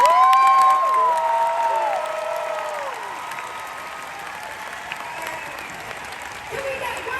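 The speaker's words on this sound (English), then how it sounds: "Can we get one more big round of applause," Fan convention audience at a Back to the Future cast reunion panel applauds and cheers, with a loud crowd roar at the start that thins into sustained clapping, mixed with whistles and voices.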